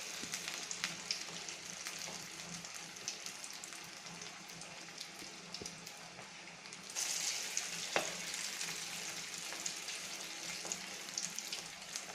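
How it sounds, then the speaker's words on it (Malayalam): Banana flower vada deep-fry in oil with a soft, even bubbling sizzle, turned once partway through, which briefly makes the frying louder and brighter. "മൂത്തതിന് ശേഷം നന്നായിട്ട് തിരിച്ചു മറിച്ചിട്ട് പൊരിച്ചെടുക്കുക"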